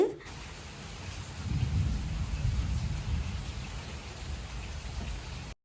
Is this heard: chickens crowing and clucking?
no